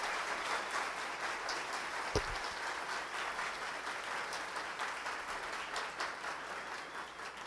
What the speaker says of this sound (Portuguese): palmas para vocês